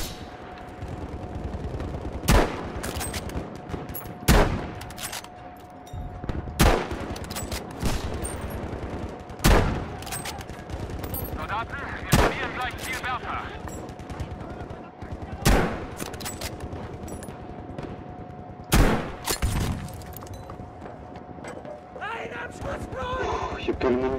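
Gunfire rings out in Battlefield V multiplayer, with loud single shots and bursts at irregular intervals over a steady battle din, while someone talks throughout.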